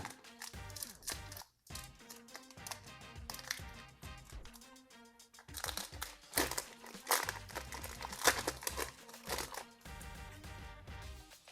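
A Gundam TCG booster pack wrapper, from a Newtype Rising booster break, crinkles and crackles as it is torn open, with busy irregular rustling bursts close up and no talking.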